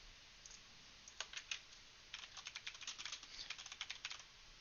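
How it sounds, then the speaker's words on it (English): A stenographer types answers at a keyboard, quiet clusters of rapid clicking keystrokes in irregular bursts over a faint steady background. "The typing you hear is the stenographer writing your answers."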